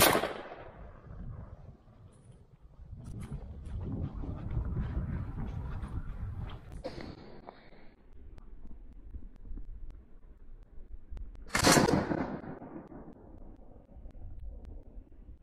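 A D-Doxcarms Dcx-26 shotgun fires outdoors while hunting wood pigeons, sharp blasts standing out, with one loud, crisp shot near the end over steady wind buffeting the microphone.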